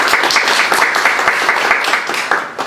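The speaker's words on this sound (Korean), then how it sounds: "우리 밀레니얼 세대 함께 해주신 분들을 위해서 박수 한번 치고 넘어가겠습니다." Roughly 200 audience members clap at a youth talk concert in Cheongju, producing loud, dense and continuous applause that fills the room close up and fades slightly at the end.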